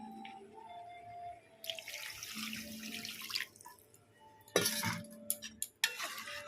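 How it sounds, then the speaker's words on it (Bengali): Water poured into a cooking pot during a Bengali meat curry with elephant foot yam, a splashing rush in two bursts with metallic clinks of utensils around it, close by and no talk. "আমার কষা হয়ে গেছে, এবার জলটা দিয়ে দেবো।"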